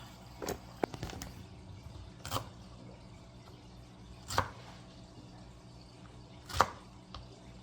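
A knife cutting trimmed okra pieces in two on a board, a few sparse, sharp chops spaced seconds apart over a faint background.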